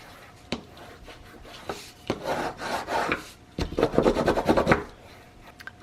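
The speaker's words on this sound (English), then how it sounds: "I'm going to burnish it down really" Paper is burnished down onto a handmade cover with a tool, giving close, dry scraping rubs in short strokes, growing busier and more rapid toward the end.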